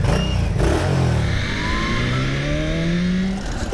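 Ducati Streetfighter naked sport bike accelerating, engine note climbing steadily in pitch through the revs, close and loud, with no talking.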